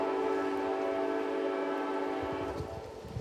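Amtrak 63 passenger train passes a crossing in Bolivar, its horn blaring a sustained loud chord up close while wheels rumble beneath, no voices.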